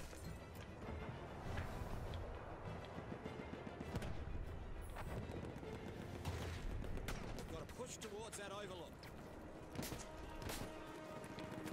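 Enemy gunfire in the shooter Battlefield 1, repeated shots and distant explosions in a dense, noisy battle mix with a voice talking over it.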